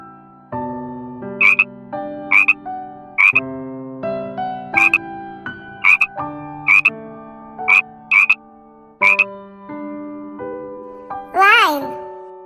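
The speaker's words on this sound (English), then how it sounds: "Frog." Frog croaks repeat about nine times in a steady rhythm over a bright children's animal-sounds song, each croak short, sharp and loud, with a voice in the mix.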